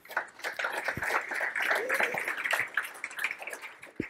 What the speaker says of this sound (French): applaudir pour ce témoignage